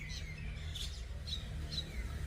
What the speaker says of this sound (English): Yeah, that's the birds.